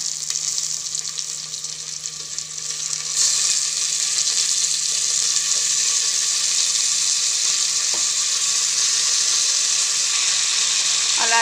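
Mutton drops into hot oil with browned onions for a fenugreek-leaf mutton curry and sizzles in a steady hissing fry that grows louder after a few seconds and holds throughout.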